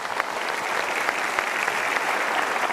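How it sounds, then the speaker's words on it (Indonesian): A studio audience at a televised motivational talk show breaks into steady applause, a dense even wash of clapping from many hands with no talk over it. "Ya, kita berikan tepuk tangan."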